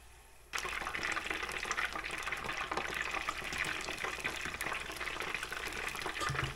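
Battered pieces of lobster for General Tso's drop into very hot oil for a second high-temperature fry, breaking into a dense, steady crackling sizzle that holds evenly after a quieter start.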